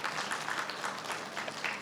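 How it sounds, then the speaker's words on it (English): An audience claps for the panelists at a conference session at the Rio Pavilion during GEF Day, a steady, soft patter of many hands heard from a distance, with no talking. "another round of applause for all the panelists"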